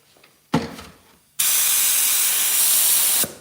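Paint spray gun fired in a test burst to check its spray pattern, a loud steady hiss lasting about two seconds, preceded by a brief short spurt, close and alone without talk.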